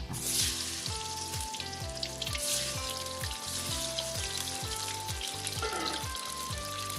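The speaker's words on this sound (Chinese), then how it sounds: "油温大约5成热之后呢，就可以开始加入我们的马铃薯的啦" Potatoes fry in a wok of reused oil heated to medium temperature, a moderate steady sizzle and crackle running throughout, with melodic background music.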